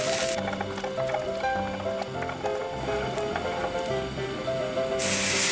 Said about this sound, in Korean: 은행에 고르게 열이 닿도록 저어주세요.